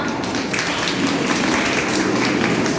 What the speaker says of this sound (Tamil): முதல்ல எல்லாருமே பலமா ஒரு கைத்தட்ட தட்டலாமா?